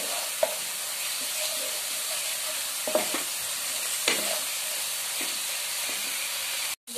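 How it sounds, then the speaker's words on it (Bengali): A spice masala sautés in oil for an egg dish, giving a continuous loud sizzling hiss broken by a few scraping strokes of a spatula stirring it in the pan. "এবারে এটাকে দিয়ে আমি কষাতে থাকব যতক্ষণ না এখান থেকে তেলটা বেরিয়ে আসে।"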